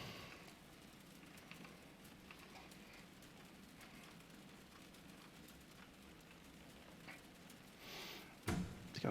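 Faint, steady rain patters around an A2A Bonanza parked at Essendon during a flight-simulator walkaround, a soft continuous hiss with a few louder thumps near the end.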